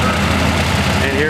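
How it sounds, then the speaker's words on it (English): A small tractor's engine idles with a loud, steady, continuous rumble at a farm machinery show, with talk mixed in. "That's such a neat little tractor."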